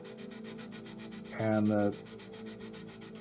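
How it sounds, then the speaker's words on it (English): Short scraping rub of a 320 grit sanding stick on a 1/48 Kinetic F/A-18D Hornet model kit, one brief stroke lasting about half a second, close and fairly loud over a steady background hum. "I've got a 320 grit sanding stick that I've had"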